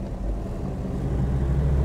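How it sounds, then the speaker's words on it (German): A classic car with retrofitted power steering driving along, a steady low engine and road rumble heard from inside the cabin, loud and constant with no speech. "Eine nachgerüstete Servo höre ich gerade"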